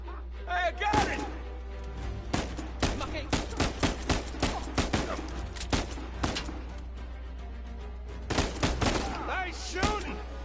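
Rapid bursts of gunfire in the Uncharted 4 video game, sharp repeated shots in clusters across the whole stretch, loud and close, with in-game character voices talking between volleys.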